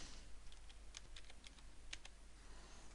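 Light, quick tapping on a computer keyboard while entering settings in software, with a few short bursts of keystrokes and a faint background hum, quiet and close.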